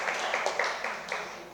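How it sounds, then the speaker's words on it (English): Audience applause for a guest speaker at an interactive session on GST reforms in Kolkata, a brief steady patter of clapping from a hall crowd at moderate level with no talking. "give a big round of applause once again to our guest speaker"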